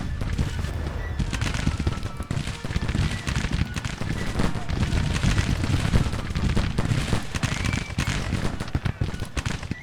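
Musket volley fire in the Civil War strategy game Grand Tactician: The Civil War, with a continuous crackle of many muskets firing at a moderate distance, steady and dense throughout with no talking.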